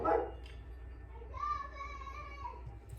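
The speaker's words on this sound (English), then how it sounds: "So sorry about my dogs." Dogs bark a few times in a home, loud and brief at the start, then a voice and background talk continue at moderate level.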